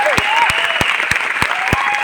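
A seminar audience in Delhi claps in an even, steady rhythm, with loud synchronized claps roughly three times a second, over a continuous murmur of voices.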